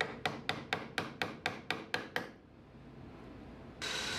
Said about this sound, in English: I just go around on all four corners with a chisel to square them off.